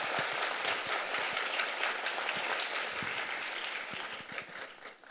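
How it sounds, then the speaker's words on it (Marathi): An audience claps steadily at a children's literature gathering, a dense, even applause that carries on throughout at moderate level without speech. "टाळ्या वाजवूया त्यांच्यासाठी"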